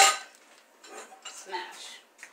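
A metal oven rack is lowered in a kitchen, starting with a loud clanking rattle and followed by scattered lighter scrapes and clinks, close by.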